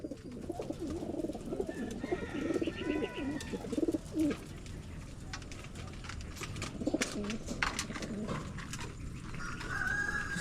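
Pigeons coo steadily in a loft or yard, soft rolling calls overlapping one another at close to middle distance, with a constant rustling background and no talk.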